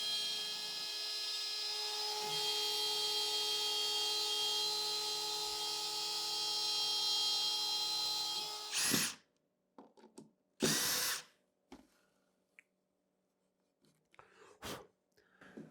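A CNC router fitted with a 1/4 inch upcut bit cuts the perimeter of a wooden inlay panel, a loud, steady high-pitched whine for about nine seconds, then stopping, followed by a few short, sharp bursts and knocks.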